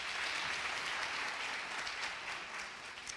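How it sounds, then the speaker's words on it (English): Audience applauding at a G-20 planning summit, a steady wash of many hands clapping throughout, moderately distant and fairly faint, with no talking over it. "Can we clap again, please?"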